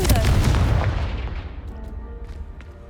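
Confringo blasting spell exploding against piled debris in Hogwarts Legacy, a loud booming blast with rumbling low end that decays over a few seconds into scattered faint debris sounds.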